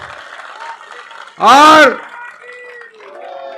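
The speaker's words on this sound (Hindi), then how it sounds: "तालियों में कमी नहीं आनी चाहिए अपने नेता के लिए" Election rally crowd applauding their leader, former chief minister Bhupinder Hooda, in Badli, Jhajjar: a short loud burst of clapping rises over a voice on a PA system and fades within about half a second, with speech before and after.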